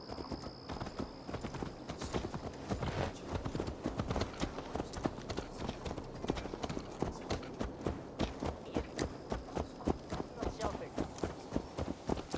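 Hooves of a horse in the video game Assassin's Creed Valhalla clip-clop in a steady trotting rhythm, close and continuous, beneath game ambience and a voice speaking.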